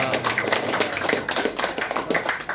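An audience at an evaluation meeting gives a dense round of applause after a speech, with many hands clapping steadily at moderate distance and no speech over it.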